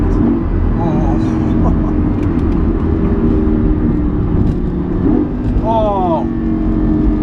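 A Lamborghini Gallardo's engine roars loud and close, with rising pitch sweeps as it pulls hard and blips through a downshift, while voices speak over the steady rumble.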